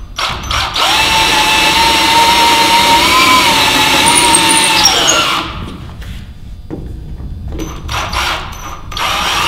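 A power drill boring holes through a wooden toboggan board, a loud close whine for about five seconds before it winds down, followed by brief clattering handling noises.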